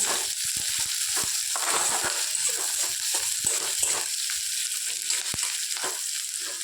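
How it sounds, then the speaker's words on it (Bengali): Onions fry in a pan with a continuous bright sizzle, broken by frequent sharp clicks and scrapes from stirring close by. "পেঁয়াজটা একটু ভাজা ভাজা করে নেব।"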